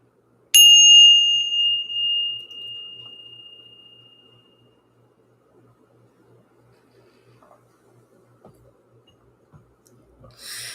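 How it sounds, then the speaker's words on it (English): A single bright bell is struck once, ringing out clearly and decaying slowly over several seconds into near silence, with faint soft taps afterward. "Let's go ahead and ring the bell."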